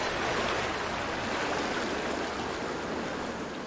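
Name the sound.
water flowing in a creek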